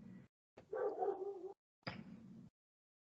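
A pet dog barks indoors in two short, separate outbursts, moderately loud, with silence between them.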